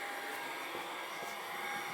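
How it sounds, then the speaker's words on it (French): A household vacuum cleaner runs steadily with a continuous whining motor drone and airflow rush, loud and close, with no voices. "De retour avec l'aspirateur."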